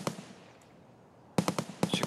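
Gunfire in the video game Escape From Tarkov, a few sharp shots at the start, then a pause and two quick close bursts of rapid cracks.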